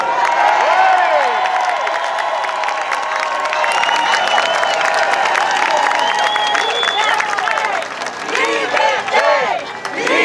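A large street crowd at an August 2020 protest in Montreal applauds and cheers police officers, sustained loud clapping and whoops with shouting voices mixed in, dipping briefly before surging again.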